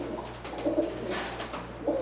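Pigeon cooing softly in a loft, low repeated coos over steady background hum, close and moderate in level, no talking.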